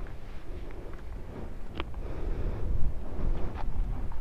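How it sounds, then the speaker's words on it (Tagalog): Gusty wind on a mountaintop, Mt. Tapao in Suyo, Ilocos Sur, rumbles and buffets the microphone continuously, growing stronger toward the end, with faint indistinct sounds beneath. "Medyo malakas kasi yung hangin eh."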